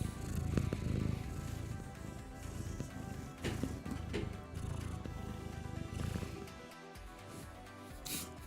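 A kitten purrs close by in a low, steady rumble that holds for several seconds with slight swells, no talking over it.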